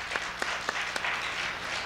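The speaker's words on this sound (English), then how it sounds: "so let's give them a round of applause" An audience claps for the Heritage Choir, a soft, fairly distant wash of applause with a few sharper claps standing out over about two seconds.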